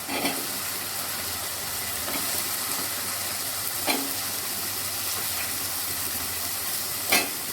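Drumsticks sautéing in a pan with mashed tomato for kuzhambu, a steady soft sizzle throughout with a few faint scrapes of stirring, close and even, no talking.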